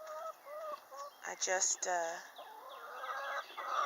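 Backyard hens cluck in a steady, nearby stream of short calls and warbling notes, with a person speaking briefly over them.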